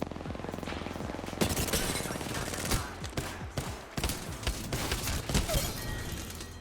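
Rapid automatic gunfire from a PS5 shooter game played with an eXtremeRate RISE4 paddle controller, dense repeated bursts with sharp single shots, loud and close, running almost continuously through the clip.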